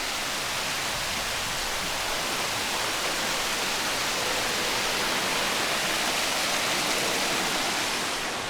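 A small waterfall beside a hiking trail near Multnomah Falls in Oregon pours as a dense, even hiss of falling water. It is close and constant, with no speech.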